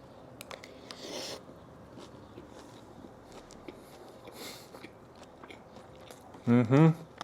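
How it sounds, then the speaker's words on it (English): A mouthful of pork bulgogi is bitten and chewed up close, heard as soft moist crunching and smacking that is mostly faint and intermittent. A short louder burst comes near the end. "I gotta get a bite with everything in it"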